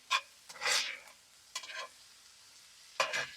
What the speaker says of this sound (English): Mix them around in that butter.